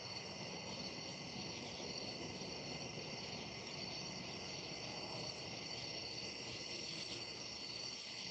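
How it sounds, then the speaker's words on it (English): Crickets chirp at night outdoors, a faint, continuous high trill layered in steady bands that holds evenly throughout with no voices. "How's the crickets sound tonight?"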